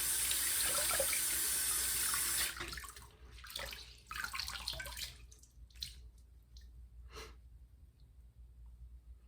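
Tap water runs steadily into a sink for rinsing after a shave with a 1924 Ever Ready safety razor, then cuts off, leaving scattered splashes and drips close by.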